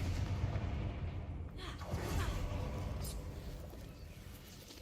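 A magical explosion spell in a video game goes off with a loud, dense boom, a rumbling blast that lingers and slowly fades over several seconds.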